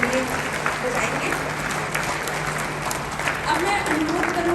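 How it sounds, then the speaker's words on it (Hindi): Audience at an award ceremony at the World Hindi Conference in Nadi, Fiji, clapping loudly and steadily for the award winners, with dense applause from start to finish. "आप सभी का भी एक बार जोरदार तालियां हम सभी पुरस्कार विजेताओं के लिए बजाएंगे"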